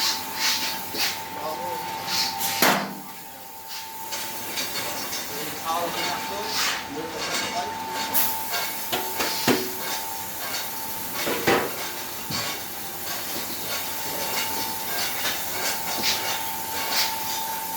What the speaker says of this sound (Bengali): ছয় করাই সিস্টেম ছয় করাই চাল গরম হবে এবং দশটারে মুড়ি ভাজা হবে